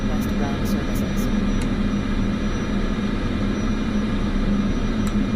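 A jet airliner's engines run steadily after start in Microsoft Flight Simulator 2024, a loud, continuous roar and whine with a few faint clicks near the start.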